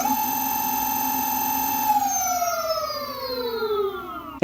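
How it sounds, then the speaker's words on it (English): A VMAX VX2 electric scooter's 1900 W hub motor, wheels off the ground, sends out a loud, steady tonal whine up close, then the pitch slides smoothly downward as the motor winds down, with no talking. "if you're curious what 1900 peak watts of power sounds like, I'm going to go ahead and play a clip of me spooling up that motor."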